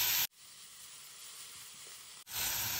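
A continuous soft sizzle of herbs frying in hot oil, close by and steady, with no talking.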